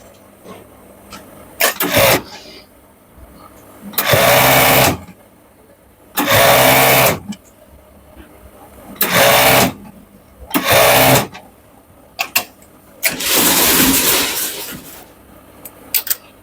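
Overlock machine sewing the side seam of a T-shirt in several short loud bursts of fast whirring stitching, separated by quiet pauses, with one longer run near the end.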